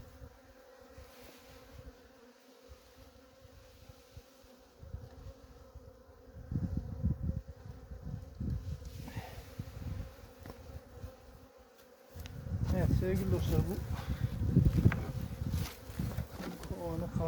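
Honeybees in a queenless hive hum in a dense, continuous buzz that swells louder toward the end, with a person talking over it.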